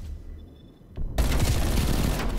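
Heavy gunfire from a Call of Duty: Black Ops Cold War match: after a near-silent lull, a loud, dense burst of automatic shots erupts and keeps going without a break.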